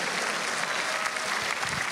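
A church congregation claps together during an evangelist's sermon, a full, steady roar of many hands with no pause, filling the room.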